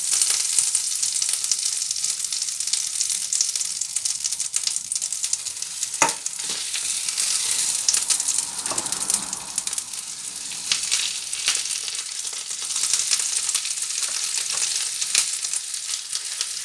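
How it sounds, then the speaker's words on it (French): Sausages fry in a pan with a steady, bright sizzle and crackle that holds throughout. A brief clatter of stirring or a utensil interrupts it partway, and no one speaks. "on s'occupe de la cuisson des saucisses"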